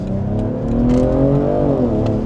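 A BMW M340i accelerating hard, heard from inside as a loud engine rising smoothly in pitch, then easing briefly and building again.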